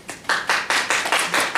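Slow, sparse clapping from a small group of first-year students at a college orientation for a beauty and health department, six or so distinct bursts in a steady rhythm, fairly close and with no talk.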